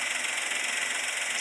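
Car engine idling with a cylinder misfire, a steady close mechanical hum and rattling vibration, brief and unbroken.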